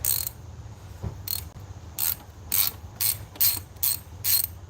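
A ratchet clicks in short bursts while loosening intake manifold bolts, about eight crisp repeated ratcheting runs with brief pauses between, close up and quiet otherwise.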